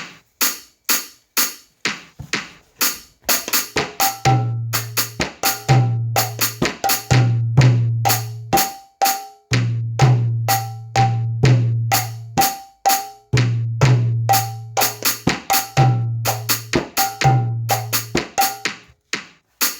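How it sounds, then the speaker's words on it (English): A mridanga hand drum plays a brisk rhythmic pattern of sharp slaps and resonant bass strokes, repeating steadily in cycles alongside a faint melodic drone. "Now if I was to play Mridanga to this,"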